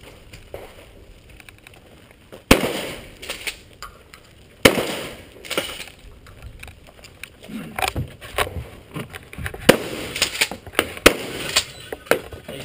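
Gunshots crack at a 3-gun shooting stage as sharp, fairly loud reports at irregular intervals, with scattered metallic clatter and faint voices in between.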